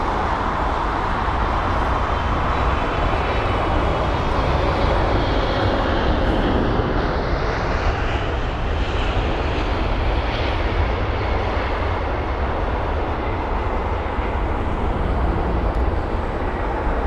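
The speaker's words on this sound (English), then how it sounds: "Really nice landing there." An airliner lands at London Heathrow, its engines and rushing air forming a loud, steady roar that fills the scene from start to finish, with no voices.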